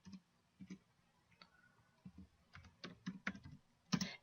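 Keys clacking on a computer keyboard as code is typed, soft irregular taps in short bursts with pauses, ending in a louder cluster of strokes, quiet and close with no voice.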